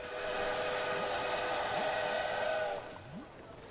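A train running in the Railway Empire video game, a steady rumbling drone with rising tonal whines, continuous and moderately loud before easing slightly near the end.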